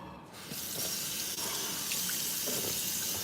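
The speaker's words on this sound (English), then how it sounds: "I rinse my stuff off." Tap water runs steadily into a sink while items are rinsed under it, a continuous close hiss of flowing water with no talking.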